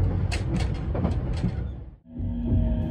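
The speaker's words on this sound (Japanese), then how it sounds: "列車はみなべ駅に到着です。" A train rumbles and clatters as it slows arriving at Minabe Station, the noise dropping briefly before a steady hum of the stopped carriage.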